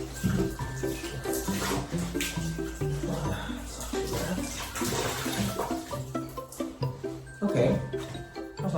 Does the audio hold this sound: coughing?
no